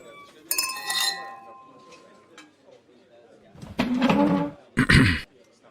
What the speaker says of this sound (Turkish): Kadehlerimizi Seyfettin'in şerefine kaldıralım.